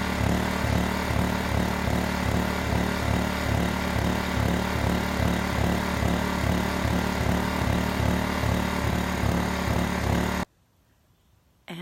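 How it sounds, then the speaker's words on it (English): A cabin's generator engine runs steadily close by, a loud, even mechanical drone with a regular pulsing beat that continues for about ten seconds and then cuts off abruptly into near silence. "did we ever get the generator to start running?"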